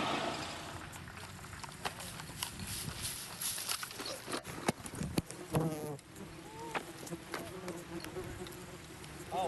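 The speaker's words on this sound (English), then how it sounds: "there's a big swarm of bees down there." A large swarm of bees buzzing near a nest outdoors at a disc golf event, a faint, continuous drone under scattered voices and movement noises.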